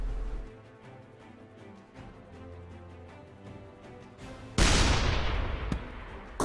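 Cannon blasts from tanks in the artillery video game Shell Shock Live, with low booming shots early and then a loud, sudden explosion near the middle that rolls off into a long, noisy decay, followed by a sharp crack near the end.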